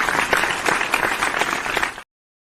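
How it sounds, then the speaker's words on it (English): A round of applause from an audience for guests on an interview show, brisk dense clapping at steady volume for about two seconds before cutting off abruptly into silence. "We're going to give you a rounding applause"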